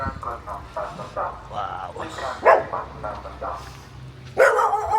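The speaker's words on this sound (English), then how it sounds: "Why do dogs bark at me?" Dogs in a Thai town bark in short, repeated bursts at moderate distance, with a louder yap near the end and a person speaking briefly over them.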